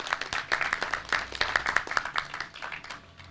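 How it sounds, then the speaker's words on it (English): A round of applause at a mayor's news conference, with a small group clapping steadily at moderate distance for about three seconds before it thins out. "Can we have a round of applause for Kat, too"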